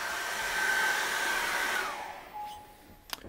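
A hair dryer blows a steady, loud whoosh over acrylic paint, then switches off partway through and winds down, leaving faint clicks and quiet.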